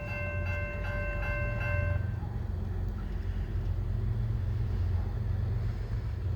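A train passes the County Farm Road railroad crossing near Murfreesboro, Tennessee, a steady heavy low rumble of rolling cars close by, with a brief tonal hum or horn-like note fading early.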